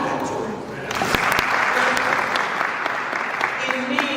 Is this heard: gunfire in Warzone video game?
no